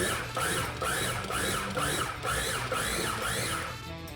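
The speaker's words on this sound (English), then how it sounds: "Now I'm going to process my artichoke hearts. Just pulse it a little bit just to break it up." A food processor pulses artichoke hearts with a loud, close whirring and chopping that pulses in a regular rhythm and runs alone for about four seconds.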